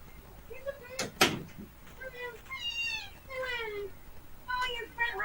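A cat meows several times in short, rising calls, fairly close, with a sharp knock or bump near the start and people talking quietly around it.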